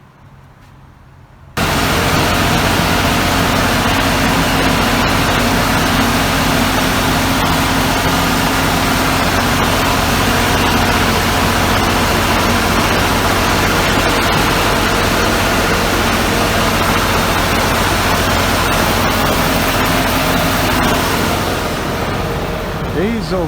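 A diesel engine running on a construction site starts abruptly and then keeps up a loud, steady low rumble with broadband noise for the rest of the time.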